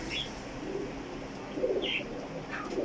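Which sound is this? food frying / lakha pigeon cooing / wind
lakha pigeon cooing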